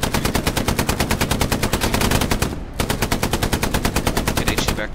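Rapid automatic gunfire from Hell Let Loose, a World War II shooter, rattling in a steady loud stream of bursts with one brief pause midway.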